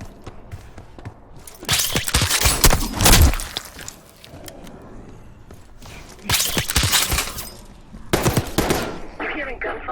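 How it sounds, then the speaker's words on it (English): Bursts of automatic gunfire from a Call of Duty Black Ops 6 campaign mission come in loud, sharp clusters separated by quieter gaps, with rapid repeated shots and crackling reports. "You hearing gunfire?"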